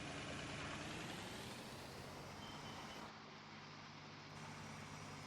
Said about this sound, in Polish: Ale to brzmi, kurde. I ten ciągnik jest super.